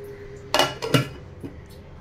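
A lid set down over a pot of freshly boiled milk on a home stove, giving a couple of short metallic clanks close by, followed by a lighter clink.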